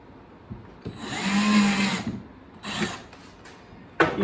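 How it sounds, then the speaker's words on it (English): A drill bores a pilot hole and drives a screw to fix a cabinet door hinge in a vintage trailer. Two close whirring bursts, a longer one and then a shorter one, are followed by a brief final spin. "Using our same method of setting a pilot hole and then screwing it in place."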